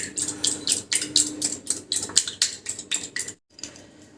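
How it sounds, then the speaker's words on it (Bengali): Two eggs beaten in a bowl with a utensil for a stuffed omelette, producing quick, rhythmic clinking strokes close by, about a dozen in a row, then a short pause and a final soft tap. "দুটো ডিম নিয়েছি, এটা ভালো করে ফেটিয়ে নিতে হবে"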